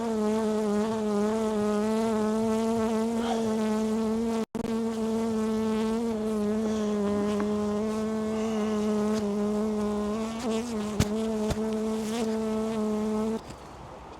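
A honey bee buzzes right against the microphone during a hive inspection with a honey super and sugar syrup feeding, a loud steady harmonic drone that holds for about thirteen seconds before cutting off.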